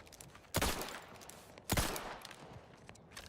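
Two loud, sharp gunshots from a weapon in the video game Outer Worlds 2, about a second apart, each with a decaying tail, over a low background hum.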